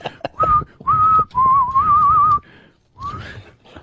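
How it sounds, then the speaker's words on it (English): A man whistles a short tune in clear, sustained phrases with brief pauses between them, loud and close. "He could whistle a tune."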